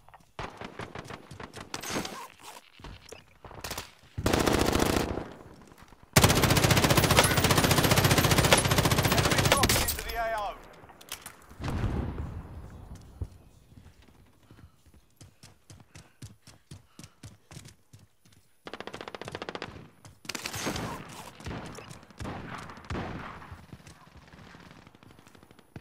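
Bursts of automatic gunfire in a video game, loud sustained volleys mid-clip with scattered shots and game voice callouts around them.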